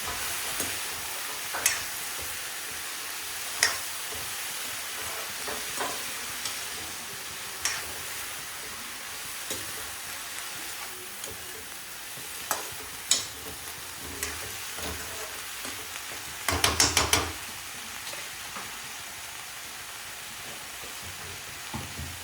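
Vegetables for a vegetable upma roasting and being stirred in a pan, a steady soft sizzle with scattered spoon scrapes and taps and a brief louder clatter near the end, no talking.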